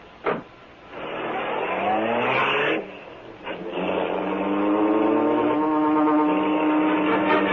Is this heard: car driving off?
yes